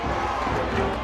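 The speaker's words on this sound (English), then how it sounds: "Best crowd of the night, best crowd in a couple of years" Spectators in the stands at a Dutchtown High School football game roar and cheer in a dense, steady crowd wash lasting about a second.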